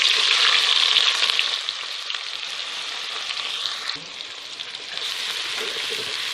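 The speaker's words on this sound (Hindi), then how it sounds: "तो ऑयल गर्म हो गया, अब इसमें डालेंगे प्याज।" Chopped onions frying in hot cooking oil over a high flame for a turnip dish, giving a loud, steady, dense sizzle that crackles continuously throughout with no talking.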